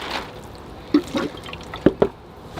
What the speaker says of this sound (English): I got some more dried up moss, so I'll give it some water and hydrate it.